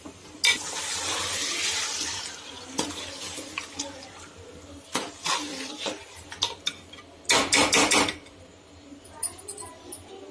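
Spices for a Delhi-style korma sizzle and fry in a pan while being stirred, with scraping bursts and clatter of a utensil against the pot, including a louder flurry of scraping near the end; no one talks.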